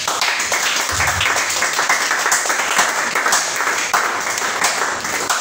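A church congregation at a Sunday service applauds continuously, a dense, loud wash of clapping filling the room from start to finish.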